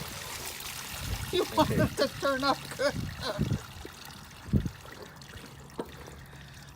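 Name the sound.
liquid being poured while making corn soup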